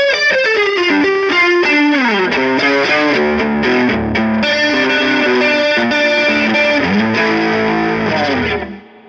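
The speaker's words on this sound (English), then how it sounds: "using a bit of chorus to get that sound" Electric guitar played with a chorus effect and a bright tone capacitor, melodic lines and chords shimmering with a wide, slightly overdriven tone, played continuously and alone before fading out at the end.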